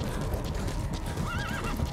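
Horse hooves clip-clop steadily in Metal Gear Solid V while a horse whinnies once near the end, a short rising-and-falling neigh over a constant game background rumble.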